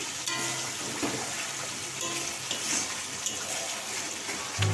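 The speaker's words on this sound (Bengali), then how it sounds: "মশলা থেকে তেল একটু একটু ছাড়তে শুরু করেছে" Spice masala frying in oil in a pan for spicy potato curry with green chillies, a continuous soft sizzle with light crackles and faint stirring scrapes, close and fairly quiet, with no voices.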